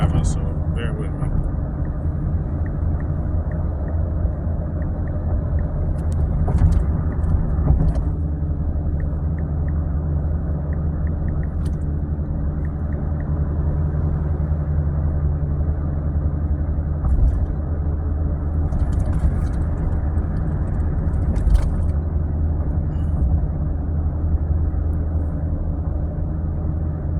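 A car interior carries a steady low engine and road rumble that holds evenly throughout, with a few faint higher rattles and no speech heard.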